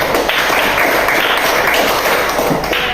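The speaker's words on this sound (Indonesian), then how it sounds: "Kalau begitu kita tepuk tangan dulu untuk kelompok" Classroom applause for a student group at an elementary school, a steady dense patter of many hands clapping throughout, fairly loud with no break.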